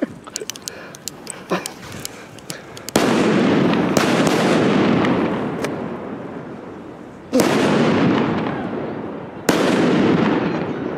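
Fireworks set off in Valencia, sharp crackling pops at first followed by several loud booming bursts, each decaying into a long rumbling crackle, with distant voices faintly underneath.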